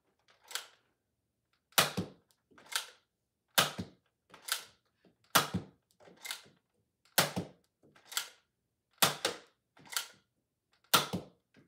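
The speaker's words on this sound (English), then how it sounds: "onto the firing demo. Using the included orange and blue elite style darts." A Nerf Fortnite Flare blaster fires orange and blue elite-style darts, giving sharp separate snapping shots at a regular pace, often in close pairs, loud and near against quiet.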